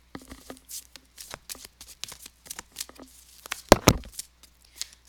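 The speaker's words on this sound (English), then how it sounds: "I'm shuffling. I'm gonna shuffle." Tarot cards being shuffled by hand, irregular close papery flicks and slides with a couple of louder slapping taps near the end.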